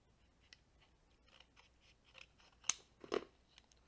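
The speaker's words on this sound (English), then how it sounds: "And then I want to cut it roughly to this size." Scissors snip through paper while cutting a small piece for a craft embellishment, a few soft, scattered snips followed by two sharper, louder cuts near the end, with no talking.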